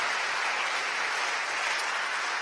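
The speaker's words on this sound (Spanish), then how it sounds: "Démosle palmas al Señor, hermano." A church congregation claps together in steady, dense applause that fills the whole moment evenly, loud and close with no voices rising above it.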